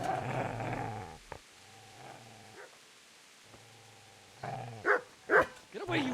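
A dog growls low and then gives a few short, loud barks and snarls close by, with brief pauses of near silence between.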